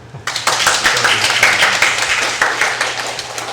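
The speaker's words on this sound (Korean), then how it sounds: "우리 서준서 형제 학생에게 박수를 한번" A church congregation at Sunday worship applauds a student, crisp individual claps from many people starting abruptly and continuing in a lively patter for a few seconds.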